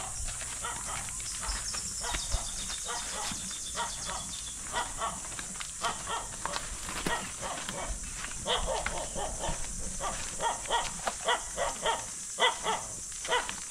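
A dog barks repeatedly at a rural home in the Philippines where pigs are also kept, giving short, uneven barks at a moderate distance over a faint outdoor background.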